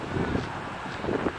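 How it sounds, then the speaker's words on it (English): Strong wind blows outdoors on a bad-weather hiking day, buffeting the microphone in low rumbling gusts that swell and fade over a steady roar. "It's really windy"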